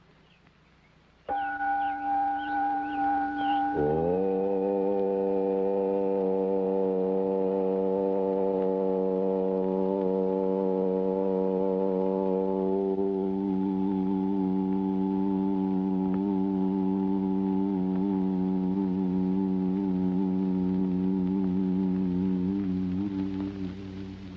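A gong is struck once, then a deep resonant tone hums and sustains with rich steady overtones, slowly fading over more than twenty seconds in a quiet setting, alone without talk.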